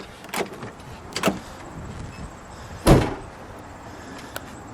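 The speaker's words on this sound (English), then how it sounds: "Can I open the door here while you close the trunk?" 1979 Pontiac Trans Am 10th Anniversary car, door clicked open and unlatched in a few sharp knocks, then the trunk slammed shut with one loud thud near the end, close up.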